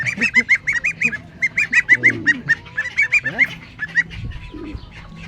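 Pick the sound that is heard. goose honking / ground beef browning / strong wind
goose honking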